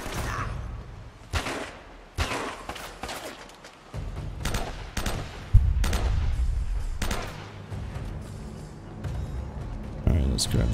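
Gunfire in the video game Uncharted: Drake's Fortune rings out as sharp, loud shots and bursts at irregular intervals over game ambience, with someone talking between them.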